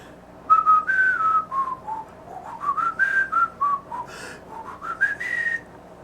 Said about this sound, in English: We're going to whistle again, but I want you to put your hand in front of your face and feel what the air does.